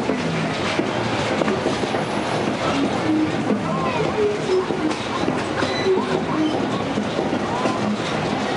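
Heber Valley Railroad train rolling along the tracks in a canyon, steady clickety-clack and rumble of the cars with occasional wheel squeals, heard from on board.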